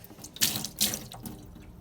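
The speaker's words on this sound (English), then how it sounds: "there is one drip that occurs this corner consistently" Water dripping inside an Amana freezer, where a leaking ice maker with a worn seal drips in one corner onto the ice cubes. Two or three close splashy bursts sound with no talk.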